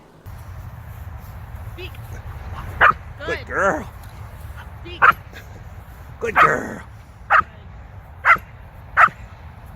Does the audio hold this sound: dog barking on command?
yes